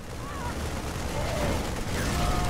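Constant gunfire from units in the StarCraft 2 Wings of Liberty campaign mission Liberation Day, a dense, continuous rattle of shots and small booms under battle noise throughout.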